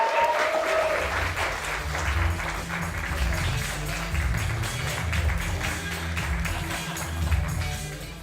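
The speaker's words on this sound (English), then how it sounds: "can you please give a huge round of applause" An audience bursts into sustained applause at a live talk event, dense clapping from a sizeable crowd that stays steady and fairly loud throughout.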